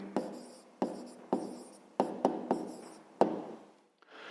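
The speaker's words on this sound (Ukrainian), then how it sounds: "Тепер записуємо відповідь. Пишемо відповідь." Handwriting an answer for a fifth-grade math exercise: a run of short, crisp scratching strokes in an uneven rhythm, close and fairly quiet, with no talking.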